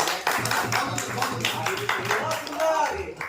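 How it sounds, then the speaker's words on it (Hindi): An audience at an honour ceremony for union office-bearers claps in a brief, lively burst of applause, close and fairly loud, with a voice speaking over it. "उनके लिए जोरदार तालियां"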